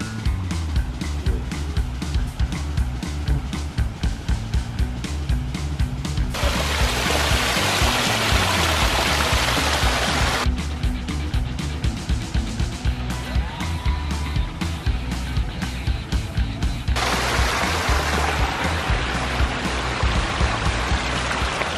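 Water pours steadily down a large rock waterfall at a commercial landscape project, a loud continuous rushing wash with surges in intensity and no talk over it.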